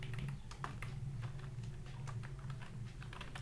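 Fingers type PHP code on a computer keyboard, producing a steady run of close, crisp key clicks with irregular rhythm over a low, constant hum.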